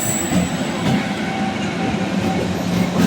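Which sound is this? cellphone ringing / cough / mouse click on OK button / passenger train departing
passenger train departing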